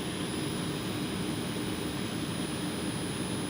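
An electric motor driven by a Danfoss FC-302 variable frequency drive runs at its set maximum of 30 Hz, about 900 RPM, producing a steady, even whirring drone with no speech.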